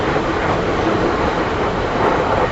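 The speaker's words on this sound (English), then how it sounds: "The train running to the left." A train runs past at night in pitch-black surroundings, giving a continuous, loud, broadband rumble of rail noise close by, with no voices.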